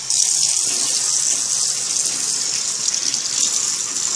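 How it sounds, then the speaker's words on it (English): Water runs steadily from a tap while hands are washed, a close, continuous hissing rush with no talk over it. "Now time to wash my hands."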